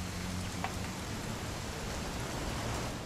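Steady rain falling as a soft, even wash of hiss throughout, fairly faint and continuous with no voices.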